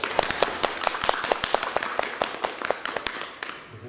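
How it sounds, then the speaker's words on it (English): A small audience at a Clarke Museum speaker series claps in a brisk, somewhat uneven patter of close hand claps that thins out and fades toward the end. "So let's give Jay a big round of applause."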